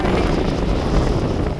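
Strong wind at a park playground buffets the microphone in a continuous loud, rough roar with no voices.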